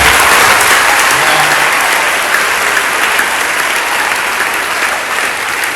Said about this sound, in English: I expect you to clap even louder because I expect you to do better.